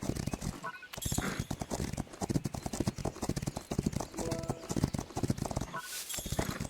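Rapid, rhythmic clip-clop of horse hooves on a hard surface in the video game Rival Star Horse Racing, loud and continuous, with a brief pause near the start.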